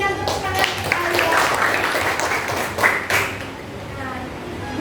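Classroom clapping for a student in an Indonesian lesson, a burst of sharp claps from several pupils that rises and fades over a few seconds while a teacher's voice talks over it.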